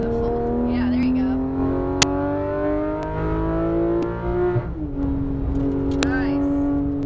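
A Porsche 911 GT3 RS of the 991 generation accelerates hard on a race track, its loud, close engine note climbing steadily in pitch, briefly dropping at a gear change, then climbing again, with a voice talking over it.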